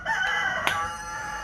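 A rooster crows once, loud and close, a long harmonic call holding steady and then fading out.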